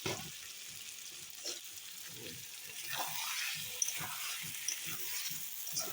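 Fried potatoes being sautéed in a pan for chicken ghugni, a quiet steady sizzle with soft repeated stirring scrapes and a few light clinks, close and fairly faint.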